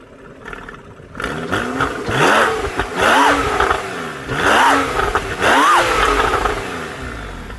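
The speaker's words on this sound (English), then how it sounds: "When you step on it and you're into it, the car comes to life and the exhaust really opens up" A 2013 Porsche Carrera 4 Cabriolet engine revs hard several times in a row, each blip rising and falling with an open, throaty exhaust, loud and close with no talking.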